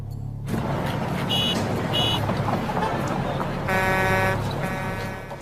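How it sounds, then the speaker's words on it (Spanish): A played-back recording of road traffic, with engine rumble, passing cars and several sustained horn blasts, moderately loud against a steady low hum. "Ahora el ruido de tráfico para compararlo."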